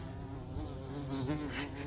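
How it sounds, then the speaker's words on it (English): Buzzing of a carpenter bee flying close by outdoors, a steady droning hum that rises and wavers in loudness as the insect moves around, with no talking. "There's a bee."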